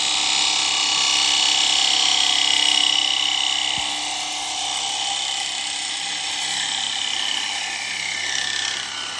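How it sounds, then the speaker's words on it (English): A wood lathe spins a bowl blank while a bowl gouge cuts, giving a steady, close, hissing scrape with a faint high whine that eases slightly partway through. "Now I know I'm using a bowl gouge here"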